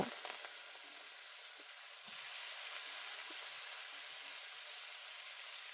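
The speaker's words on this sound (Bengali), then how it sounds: "দু মিনিটের মতো আমি এবার ভেজে নেব" Yardlong beans frying with cumin seeds in a hot kadai give off a steady, close sizzle. It grows a little louder and fuller after a couple of seconds and then holds on evenly, with no voices.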